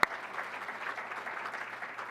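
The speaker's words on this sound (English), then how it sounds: "Let's have a round of applause for her." Applause from an audience at an after-hours community event, a steady wash of many hands clapping at moderate distance with no voices over it.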